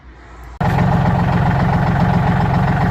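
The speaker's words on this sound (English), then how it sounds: "I don't know if you can hear me over the tractor or not" A tractor undergoing weld repairs idles loudly and steadily nearby after a brief quieter lead-in, its deep rumble holding an even, unbroken rhythm throughout.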